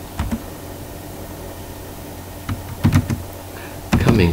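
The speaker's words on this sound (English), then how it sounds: "I'm going to type here anyway" Fingers type on a computer keyboard in small bursts of clicking keystrokes, with quiet gaps in between and a faster flurry of keys at the end, set against a faint room hum.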